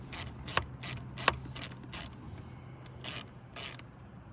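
Socket wrench ratchet turning while fitting a 2015 Honda Fit intake manifold, with about nine short, crisp clicking bursts in an uneven rhythm, close and clear with no talk.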